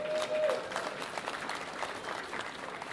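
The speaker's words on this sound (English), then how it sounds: "I want to give you a big round of applause." Dinner guests applauding a school principal at an Eid al-Adha gathering, a brief, steady patter of clapping from the room, moderately faint.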